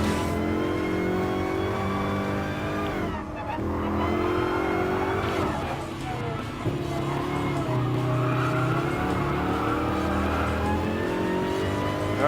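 Mercedes-Benz hatchback race cars in Gran Turismo Sport roar continuously with revving engines, shifting pitch and tire squeal through the corners, loud and steady throughout.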